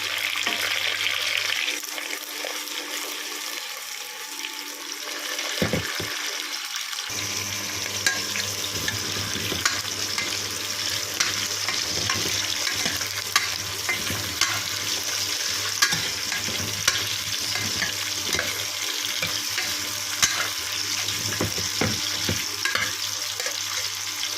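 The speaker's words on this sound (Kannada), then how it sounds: "ಈಗ ಆಗಲೇ ಸ್ವಚ್ಛಗೊಳಿಸ್ಕೊಂಡಿರುವಂತಹ ಮೂಲಂಗಿ ಹಾಕ್ತಾಯಿದ್ದೀನಿ" Cleaned radish sizzles and fries in a pan while being stirred for a ragi mudde and radish soup, a steady bright crackle with scraping stir strokes and a brief quieter gap early on.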